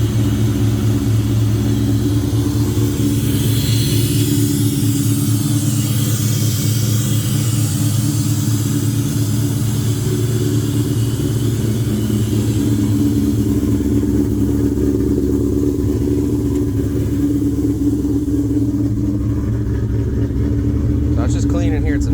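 Throaty V8 rumble from a 2003 Ford Mustang Cobra fitted with aggressive cams and aftermarket mufflers, idling loud and lumpy with occasional revs, close by under ongoing talk.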